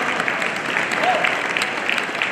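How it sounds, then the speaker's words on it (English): Audience applause at a back-to-back state championship ceremony, dense clapping filling the room with a brief whistle, steady throughout. "Let's give them a round of applause."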